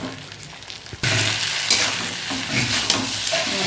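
Small chuno fish curry being stirred in a pan, with a steady close sizzle and light scraping strokes that start abruptly after a second of quieter sound, with no voices.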